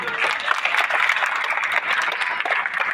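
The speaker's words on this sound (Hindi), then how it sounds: "उनका स्वागत तालियों से कीजिए" A crowd at a public meeting claps loudly and continuously to welcome Zeeshan Baba Siddique, with a voice or crowd noise mixed into the sustained applause.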